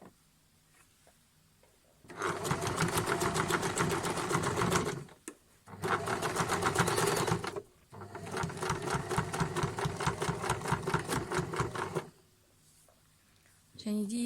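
A sewing machine stitches quilt patchwork pieces in three long, fast, rhythmic bursts separated by brief pauses, close and loud, with quiet moments before and after.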